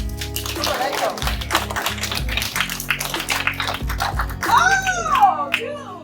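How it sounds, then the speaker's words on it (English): Children clap out a rhythm in a group, producing a quick run of sharp, close claps mixed with voices, and a higher sung or whistled line rises near the end. "Let's clap it down"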